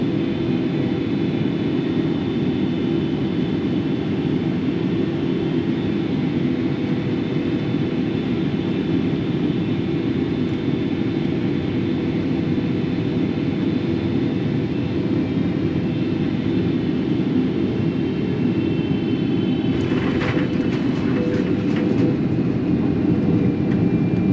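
Cabin drone of a Thai Airways airliner on flight TG910 arriving at London Heathrow: a loud, constant low roar of engines and airflow, with a brief crackling burst near the end.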